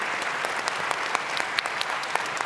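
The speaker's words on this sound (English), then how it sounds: "Would you please join me in giving them a big round of applause?" An audience applauds a panel at an event on AI in the classroom, a steady crowd of many hands clapping with scattered louder claps throughout and no voices over it.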